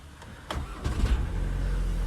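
A Volkswagen Tiguan's cold engine cranks briefly, then catches and settles into a steady low running rumble, close by.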